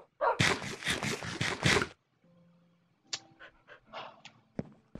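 A Minecraft dog panting in a fast, loud burst of rhythmic breaths, followed by quieter scattered game sounds and faint whimper-like noises.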